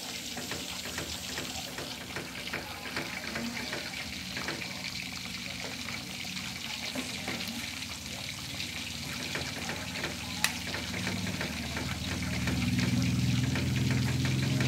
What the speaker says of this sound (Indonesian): sedikit meletup tidak apa-apa. Kita aduk terus saja.